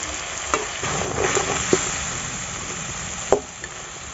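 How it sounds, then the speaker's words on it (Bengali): Crabs frying in a thick spice paste in a Sundarbans kitchen, a steady close sizzle broken by stirring scrapes and a few sharp utensil knocks, with no talking. "কাঁকড়াগুলো আমি ভালো করে কষিয়ে নিয়েছি"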